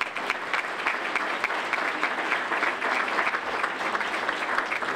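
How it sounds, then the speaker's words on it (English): Dense, sustained applause from an audience at a chamber of commerce small business awards ceremony, many hands clapping steadily and fairly close with no speech over it. "A round of applause."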